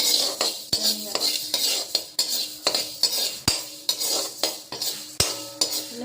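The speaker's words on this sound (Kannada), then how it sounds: "ಧನಿಯಾ ಹುರಿತಾ ಇದ್ದೀನಿ" Coriander seeds roast in a dry pan for homemade Karnataka sambar powder, stirred with a metal spoon in rhythmic scraping strokes with sharp clinks against the pan over a faint sizzle; no talking.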